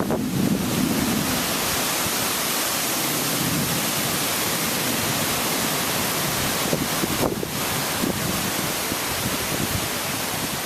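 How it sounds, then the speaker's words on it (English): Strong gusting wind roars through a micro-burst storm with lightning nearby, a loud, continuous broadband rush buffeting the microphone for over ten seconds, with no speech. "These winds are definitely up to about 30, maybe gusting to 40 miles an hour."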